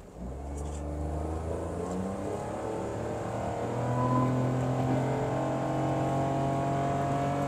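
A Honda N-One car accelerates hard from a standstill in a pickup test, its engine note rising steadily in pitch and loudness over several seconds as it pulls through the revs, heard up close with no talking.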